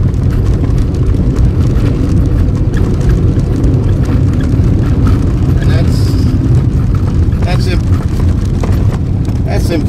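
A car accelerating down a straightaway in third gear, a loud steady engine drone and road roar close by, with a voice speaking over it.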